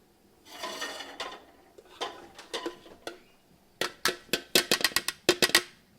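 Broccoli rice sautéing in a pan, a sizzling rasp with bursts of scraping and clinking as it is stirred and tossed, the strokes growing quicker and sharper toward the end.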